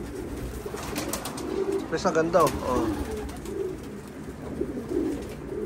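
Soft, low racing pigeon coos murmur through the clip while a person talks nearby, with a brief flutter of sharper bird sounds in the middle.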